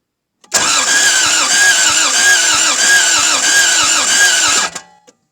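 A Toyota MR2 AW11 engine cranks with a fast rhythmic starter churn for about four seconds, loud and close, then cuts off abruptly with a brief sputter and no voices.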